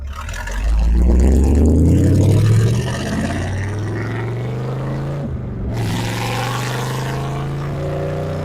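1968 Corvette convertible V8 engine idling, a deep loud rumble that swells briefly then settles into a steady low throb with a short dip midway, heard from inside the car with no talking.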